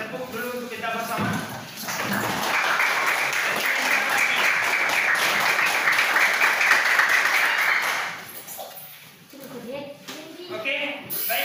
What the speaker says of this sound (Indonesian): Tepuk dulu untuk kita bersama.